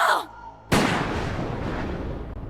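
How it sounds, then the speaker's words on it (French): A pistol shot cracks out loud and close after a short pause, its sharp blast decaying into a long reverberant tail. "J'ai entendu un coup de feu. Et puis encore 3 autres."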